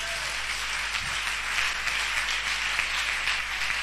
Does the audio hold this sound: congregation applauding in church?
yes